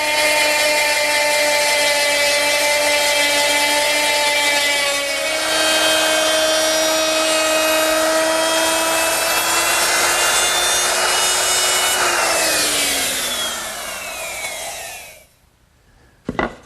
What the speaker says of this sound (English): now I'm going to mill the corresponding edge of the leaf with a 3/8" cove bit